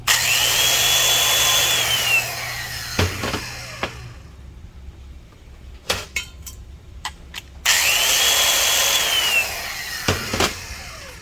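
A grinding stone cuts the valve seat of a Vortec Chevy cylinder head in a three-angle valve job, a loud whirring power-tool grind that winds up and down in two bursts with a quieter pause and clanks between them.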